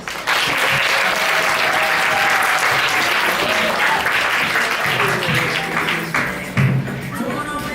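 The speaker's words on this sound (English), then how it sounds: "please give a big round of applause to Santino Alfonso Palafox" Sustained audience applause for Santino Alfonso Palafox at a school talk, a dense steady clapping from a large crowd lasting throughout, with a brief louder swell near the end.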